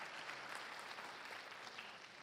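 Applause from students at a lecture forum at a Korean theological university, a faint, distant, steady patter of clapping with no talking over it.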